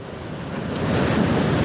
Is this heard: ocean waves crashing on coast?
yes